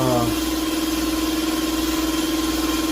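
A Kawasaki FR730V V-twin small engine runs steadily after a cylinder head rebuild, a close, even idle hum with a constant pulsing drone and no voices over it.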